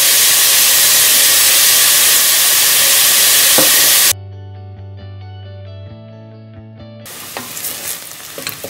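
Onions sauté with salt in a pan, a loud continuous sizzle and hiss up close with the scrape of stirring, then cutting off abruptly to a steady tonal hum before the sizzle returns.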